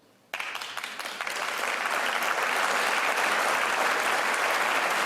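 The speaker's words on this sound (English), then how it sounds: "Republicans gave the governor some hearty applause" Republican state legislators give the Connecticut governor hearty applause, a dense roar of many hands that breaks in suddenly after a brief quiet and swells to a loud, sustained wash.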